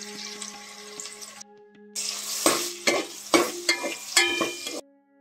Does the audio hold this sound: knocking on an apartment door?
no